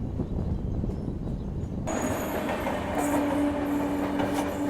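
Malwa Express passenger train running on the rails, a steady loud rumble of wheels and carriages with a brighter metallic rail whine rising partway through, continuous and close with no voices.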